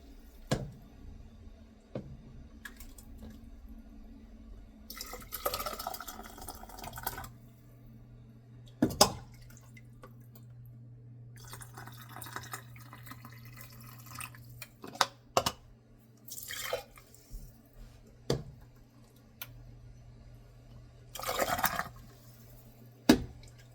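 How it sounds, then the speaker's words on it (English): Thai tom yum soup made with fresh ingredients is poured through a canning funnel into a jar, quiet intermittent liquid splashing and gurgling over a low steady hum. "I'm pouring it up to the bottom of my funnel, which is about ½ an inch headspace."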